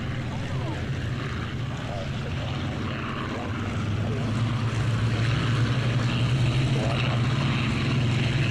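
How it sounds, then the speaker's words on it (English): Supermarine Spitfire warbirds make a throaty propeller-engine drone with a low, humming tone that grows louder and steadier midway and holds throughout, with a faint voice in the background. "as you can see, yet more Spitfires"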